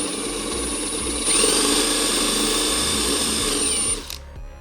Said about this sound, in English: using a drill with this is going to make it a lot faster